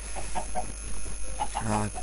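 Chickens in Minecraft cluck in short, soft bursts in the game's background while someone talks over them.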